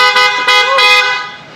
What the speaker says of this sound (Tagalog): Ayan, stock horn mga kuys.